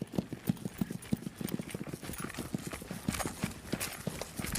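A horse walking on a hard surface, its hooves clip-clopping in an even, close rhythm of sharp knocks that loosens and grows busier toward the end, with faint background noise.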